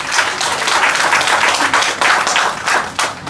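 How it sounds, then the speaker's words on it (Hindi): Audience applause at the inaugural session of an all-India writers' meet for differently abled writers, a dense burst of clapping that swells and dips in waves before trailing off. "एक बार और जोरदार ताली बजाओ।"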